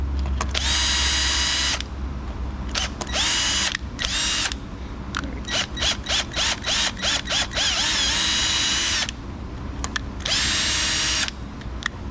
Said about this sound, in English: what I like to do is I'm gonna put one small pilot hole